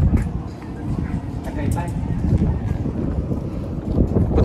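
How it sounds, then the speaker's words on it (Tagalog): Strong wind buffets the microphone outdoors at a construction project, a loud, gusty rumble filling the background while a person talks. "Lakas ng hangin."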